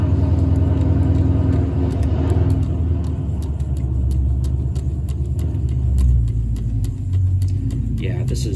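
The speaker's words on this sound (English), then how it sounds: "Sorry about that car noise. That dude starts up his car around this time every day." A neighbour's car with a worn muffler idles and rumbles, a low steady engine drone heard from a distance beneath a person talking close by.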